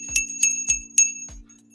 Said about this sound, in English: The bell has been rang.